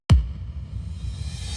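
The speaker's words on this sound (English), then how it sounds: "there is a kick, a reverbed kick, a reverse reverbed kick, and a reverse crash" A single punchy electronic kick lands with a sharp low thump, then trails into a long, washy reverb tail that hangs on at lower volume to the end, with no talking.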